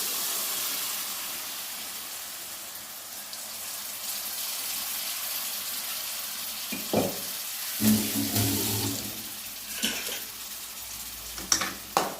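Boiled onions stirred into a hot pan of spices for a quick egg curry, a soft frying hiss with scraping stir strokes growing more distinct in the second half.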